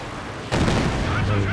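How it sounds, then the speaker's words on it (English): Werfer rocket artillery barrage in Company of Heroes 2, a sudden loud rumbling onset of fire and impacts that continues as a dense, sustained roar under game sound. "Another Werfer barrage out the back here, catching repair units."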